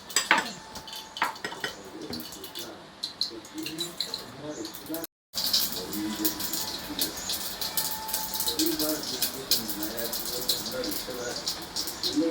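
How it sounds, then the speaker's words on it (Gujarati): Pots and utensils clink and scrape as cluster bean curry is stirred in the kitchen, with scattered metallic taps and rattles while people talk. "ગુવારનું શાક બનાવવાનું હાલે છે"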